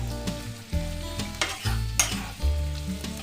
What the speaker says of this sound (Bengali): আমাদের যে টমেটোটা রয়েছে আমি সেটাও দিয়ে দিচ্ছি এর মধ্যে